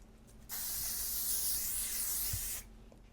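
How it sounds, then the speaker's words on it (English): A L'Oreal makeup setting spray mists in one continuous hiss lasting about two seconds. It is close and fairly loud, with quiet room tone before and after. "3-second misting mist. Makeup setting spray."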